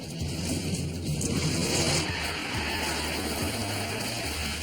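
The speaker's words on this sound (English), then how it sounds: "Handbrake spin around." A car does a handbrake spin around on a driving challenge course, with a loud engine roar and tire noise rising and falling across a few seconds, heard at a moderate distance with no voices.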